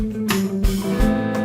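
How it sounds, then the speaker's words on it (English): A short percussive guitar strum used as a snare-drum substitute, muted, choppy chord hits landing a few times in about a second and a half, close and moderately loud with no talking. "Here's the sound of what will be the snare drum."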